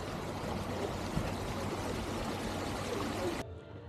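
The River Avon flowing in Stratford-upon-Avon, a steady diffuse rush of moving water that stops abruptly near the end, with no talking.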